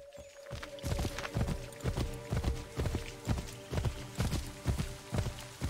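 Horse hooves clip-clop at a steady walking rhythm in Assassin's Creed III, close and clear over a low sustained ambient drone, with a faint voice briefly in the background.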